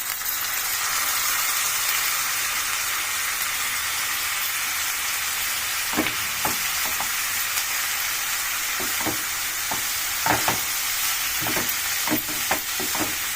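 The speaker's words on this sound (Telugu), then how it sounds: "మెంతికూర కొంచెం ఫ్రై కావాలండి" Fenugreek leaves and onion fry in a pan for making a fenugreek-tomato curry, with a steady hiss throughout and scattered stirring clicks and scrapes in the second half.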